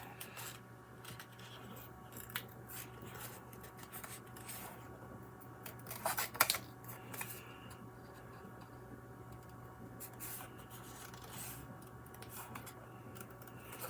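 Big scissors cut through paper with faint, scattered snips and ticks in a quiet room, including a brief louder cluster of cuts midway.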